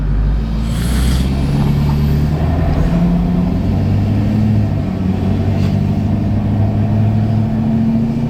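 A Ford 6.7 Powerstroke diesel pickup truck drives along with its engine running with no oil fill cap, a steady loud low rumble with a brief hiss near the start and continuous road noise throughout.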